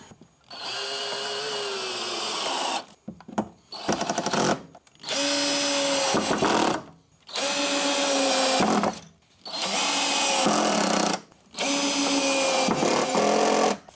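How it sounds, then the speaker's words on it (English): A power drill set to its highest torque whirs in four or five loud bursts of a few seconds each, its pitch rising and dropping as screws drive into wood, with brief pauses between. "so time to sink some screws in, I reckon"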